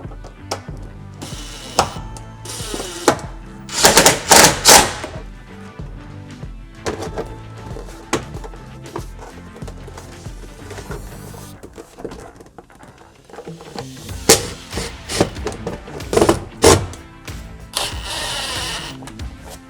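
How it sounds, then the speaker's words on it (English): Screws and a 10mm bolt are fastened back into black interior trim of a RAM ProMaster City van, giving a run of clattering clicks, knocks and tool rattles close by, in two busy bursts separated by a quieter stretch. "So we're just going to put these 2 screws back in and our 10mm bolt."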